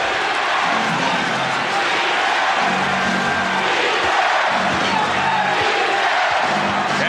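An away crowd roars steadily in a basketball arena during the 1991 NBA Finals Game 5 between the Lakers and Bulls, a dense continuous wash of cheering under a commentator's voice.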